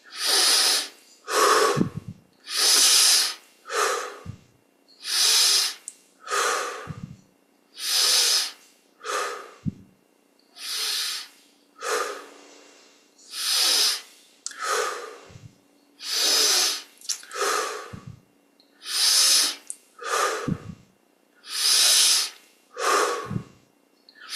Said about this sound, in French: On respire 20 fois maintenant. Inspire par le nez, expire par la bouche.